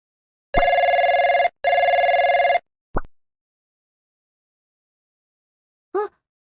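A telephone rings in the video game Trickcal Revive with two long electronic trills, then a short beep and, after a pause, a brief bubbly pickup sound against silence.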